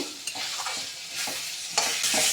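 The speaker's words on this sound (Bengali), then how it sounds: "আমার আলুটাকে আমি কষিয়ে নিচ্ছি আর 2 মিনিট মতো কষিয়ে নেব" Potatoes and spices stir-fried in a pan for a Bengali-style home-made egg curry, giving a steady close sizzle with scraping stirs and a louder burst of frying near the end, no voices.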